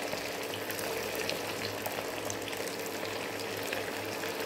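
Green chillies fry alongside crispy kaju chicken pakoda in hot oil, a continuous bubbling sizzle with fine crackles and a low hum underneath, moderately loud and steady with no voices.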